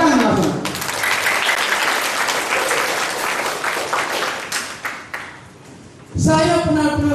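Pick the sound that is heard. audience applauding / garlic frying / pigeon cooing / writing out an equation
audience applauding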